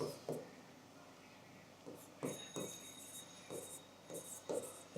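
Chalk or marker writing a sentence on a classroom board, heard as short scratchy strokes in irregular bursts against a quiet hiss, close and moderately loud, with a teacher speaking faintly between strokes.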